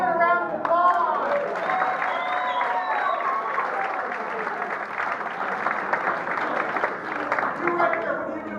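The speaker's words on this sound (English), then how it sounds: "Let's give Kevin a round of applause." An audience gives a steady round of applause, a dense wash of clapping with voices and cheering mixed in throughout.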